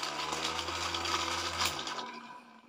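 A homemade vacuum cleaner runs with a steady, close motor whine and airy hiss, holding constant before winding down and fading over the final second.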